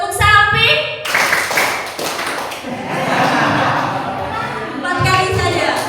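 A group claps together in a hall, sharp bursts of hand claps repeated in quick counts, with a voice leading between rounds and moments of crowd noise.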